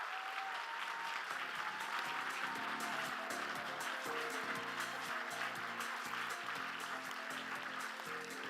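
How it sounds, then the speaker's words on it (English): Audience at a children's charity benefit applauding honorees, a sustained round of clapping over background music, steady and moderately distant. "let's give another big round of applause to Josiah, Isis"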